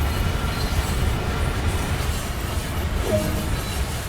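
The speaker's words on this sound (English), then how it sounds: "Take a look at this train." A train in a railroad simulator game rolls along the rails with a steady low rumble, and a brief wheel squeal rises near the end.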